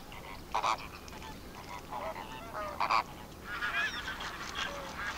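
Honking calls of greater and lesser flamingos ring out in several bursts, some overlapping, over a soft constant background hiss in the Little Rann desert, India; no voices.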